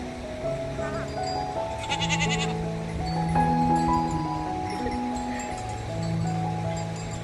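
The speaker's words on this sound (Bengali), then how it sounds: "দেখুন ছাগলগুলো কি সুন্দর মানুষের সাথে কত ফ্রেন্ডলিভাবে মিশছে।" Goats bleat repeatedly beside the Stäubifall waterfall in Switzerland, overlapping wavering calls close by, over the steady rush of falling water.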